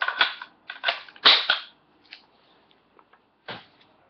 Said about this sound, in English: Throw an empty mag in.